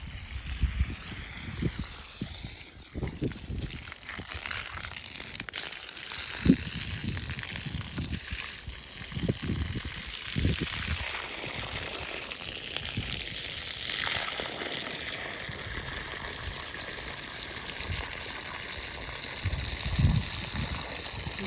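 Water poured onto a ridge gourd plant on a farm, a soft trickling and splashing flow that continues at low level with a few louder bursts of gushing.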